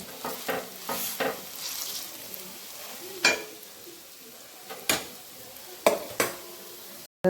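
Rice flour bhakri sizzles and fries on a hot pan, with several sharp spatula scrapes and flips cutting through a steady low crackle.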